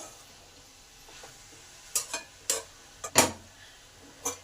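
Spiced cauliflower stalk vegetables being stirred in a pan for a chorchori, giving a few sharp scraping and clinking strokes of spoon against metal over a faint, steady low sizzle.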